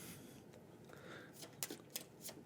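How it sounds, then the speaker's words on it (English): A deck of cards for a solo card game is shuffled quietly at close range, with soft riffles and a few sharp snaps toward the end. "shuffle these up, close my eyes, get 1 off the top, and shuffle it in somewhere."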